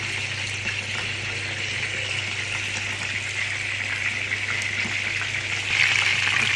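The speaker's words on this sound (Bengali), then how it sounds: "এখানে বেগুন ভাজি হচ্ছে।" Eggplant slices frying in a pan give off a steady, continuous sizzle with a faint low hum beneath, close and fairly loud, swelling slightly near the end.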